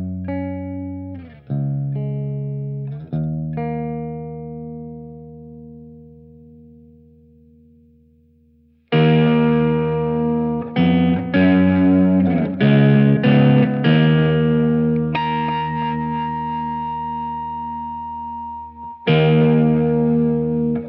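An electric guitar runs through an EAE Longsword distortion pedal into a Death by Audio Echo Dream 2, ringing out sustained distorted notes and chords that decay slowly, then a burst of rapid, thick, echo-smeared strummed phrases and a final chord.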